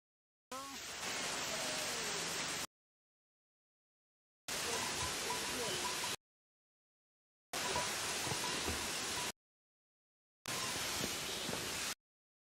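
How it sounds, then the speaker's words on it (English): Waterfall on the Everest Base Camp trek in Nepal, a steady broadband rush of falling water heard in four separate bursts of about two seconds each, loud and close with no voices. "Beautiful waterfall."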